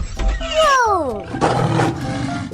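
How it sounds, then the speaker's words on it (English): A cartoon lion gives a loud, close roar that sweeps downward in pitch, followed by a rougher growling burst in a lively kids' animation. "Lion."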